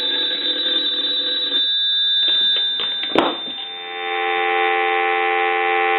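A rotary telephone bell rings in a steady, buzzing tone, broken by a sharp click midway before a continuous dial tone takes over.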